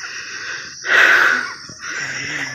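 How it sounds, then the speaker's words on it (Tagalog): A hiker breathes in loud, rasping gasps after a steep climb up a mountain trail, with a strong wheezing exhale in the middle and heavy breaths before and after, close to the microphone. "Hingal na."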